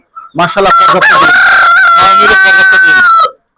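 Mixed-breed laying hens and a rooster call out close and loud, a sustained crowing and honking clamor of several birds overlapping for about three seconds.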